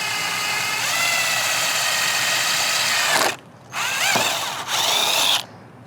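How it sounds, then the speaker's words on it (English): A power drill bores a hole through the bumper of a 2015-2021 Subaru WRX/STI while a carbon lip is fitted. A loud, steady whine runs for about three seconds, then two shorter bursts follow, close up. "I'm gonna drill a hole."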